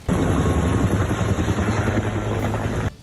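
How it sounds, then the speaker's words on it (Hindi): Helicopters spraying water over a fire at a university campus give off a loud, steady rotor and engine roar that holds without a break before cutting off abruptly. "इस काम में हेलीकॉप्टरों की मदद भी ली गई, जो आसमान से शोलों पर पानी की बौछार करते नजर आए।"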